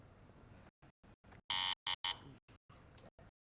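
Quiz show answer buzzer during a visual starter round, sounding as three short, loud, bright electronic bursts in quick succession against a quiet studio background.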